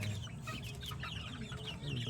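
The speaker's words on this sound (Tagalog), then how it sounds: "Ito na yung mga sisiw namin." Soft peeping and clucking of white chicks and hens, close by, continuous chatter over a low hum of background noise.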